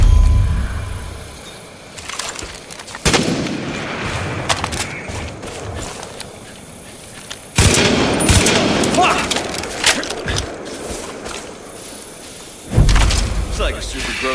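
Bursts of gunfire in the Far Cry 5 video game, fired at vultures, with loud impacts around 3, 7.5 and 12.5 seconds over a busy, continuous game soundscape.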